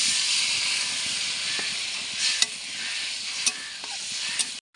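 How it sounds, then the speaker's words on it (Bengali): Water poured into a pan of potato curry with boiled potatoes, cooked as filling for Mughlai paratha, gives a steady loud hiss and sizzle for several seconds, with a few sharp clinks over it and a sudden stop at the end. "দিয়ে দিচ্ছি জল"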